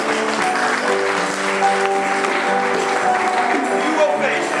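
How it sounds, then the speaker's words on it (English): A church congregation claps in praise of the Lord during a worship service, steady dense clapping blended with sustained organ or keyboard chords and voices throughout. "give the Lord a hand clap of praise"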